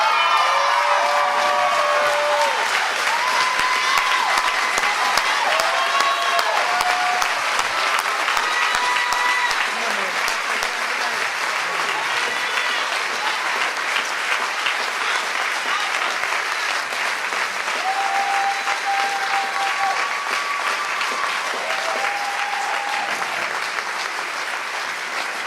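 Sustained applause and clapping from a large gala audience at a fundraising event, loud and continuous throughout, with a few whoops and cheers rising above the crowd.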